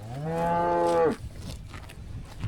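A bull lets out a single long, loud, tonal moo lasting about a second, then cuts off, leaving quieter outdoor farm ambience with faint rustling.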